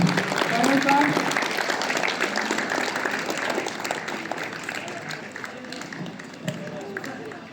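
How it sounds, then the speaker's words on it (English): An audience claps at a school sports meet opening, with sustained, dense applause from a crowd and voices mixed in, fading slightly toward the end. "Clap all of you, I request."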